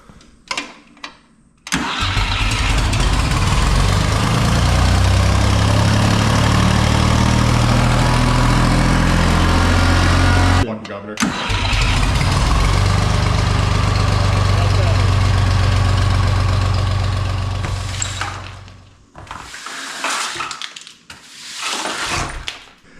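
A 1967 Ford 3000 tractor engine cranks and catches, then runs loud and close at a steady rumbling idle for several seconds, cuts briefly, restarts and settles before shutting off, with people talking near the end.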